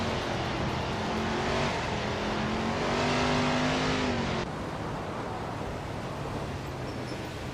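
Race car engines in a racing video game drone and whine steadily, with pitch rising and holding as the cars accelerate, then an abrupt drop to a lower, rougher engine rumble partway through.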